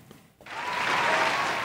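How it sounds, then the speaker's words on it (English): Applause rises on a podcast set, with a brief quiet start giving way to steady, fairly close clapping from a small group that keeps going to the end. "Round of applause for David Beckham."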